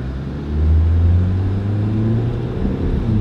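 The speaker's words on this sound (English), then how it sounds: "Now we're going to take it for a good road test. So we'll start it up." A car engine hums steadily from inside the cabin as it pulls away on a road test, a low rumble that swells slightly as it accelerates, then holds an even drone with no talking.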